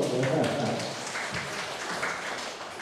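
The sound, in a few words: audience clapping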